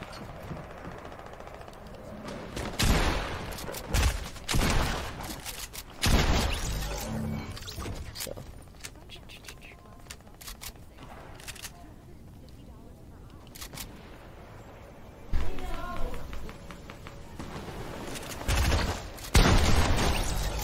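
Video game gunfire in a team rumble match, with bursts of sharp shots and rapid volleys scattered across the stretch, some loud and some quieter, under a player talking at times.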